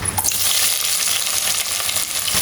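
Steady crackling sizzle of whole spices spluttering in hot oil, loud and close, with tiny popping bursts throughout and no voices.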